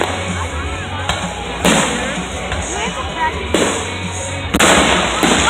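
Fireworks burst in a loud outdoor display, several sharp pops and crackling bursts spaced a second or two apart over a steady rumble, with people talking nearby.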